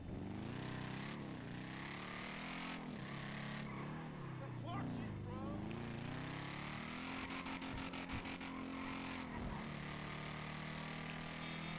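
A Fiat Abarth engine in a video game revs and accelerates steadily through its gears, loud and continuous, with pitch rising and dropping at each shift.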